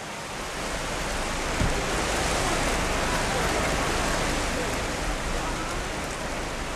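Steady heavy rain pours down during the rainy season in Myanmar, a dense even hiss that fills the whole stretch with no pauses.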